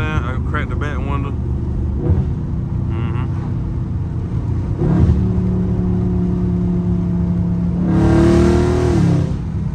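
Dodge Scat Pack muscle car engine revving hard while drifting, heard through a cracked back window as a loud, sustained roar that rises near the end, with someone talking over it.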